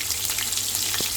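Cumin seeds and green chillies frying in hot oil give off a dense, bright, continuous sizzle and crackle, with one short soft knock near the end.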